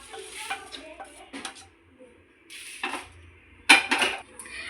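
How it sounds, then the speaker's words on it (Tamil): Mustard seeds pop and splutter in a hot pan while tamarind rice is being made. The crackles come in irregular, sharp bursts, mixed with faint clinks of utensils in a quiet kitchen. "கடுகு பார்த்திங்கன்னா நல்லா பொரியுது."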